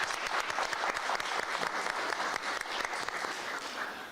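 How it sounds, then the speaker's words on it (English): An audience at a U.S. Bank community event applauds itself with a thick, continuous roar of clapping, loud and steady across the whole stretch. "Give yourselves a round of applause."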